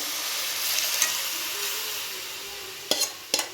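Sprouted green moong being stirred into masala frying in oil, a soft continuous sizzle with faint scraping, followed near the end by two sharp clinks of a spoon against the pan.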